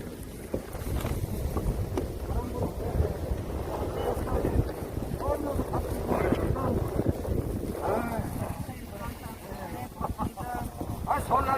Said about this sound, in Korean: 바람 불어, 바람 불어.